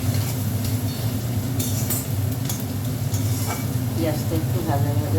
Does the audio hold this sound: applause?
no